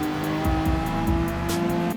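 A race car in Gran Turismo 7 at Autopolis, with a high steady engine note and rising pitch as the throttle comes back on, plus brief tyre squeals, loud and continuous throughout.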